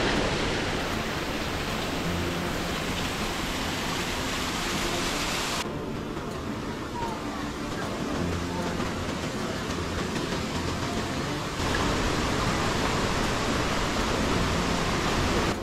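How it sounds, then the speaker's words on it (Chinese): A waterfall on the Zhukengxi trail in Meishan roars continuously, a dense, loud rush of falling water that shifts slightly in intensity but never lets up. "瀑布好像到了耶"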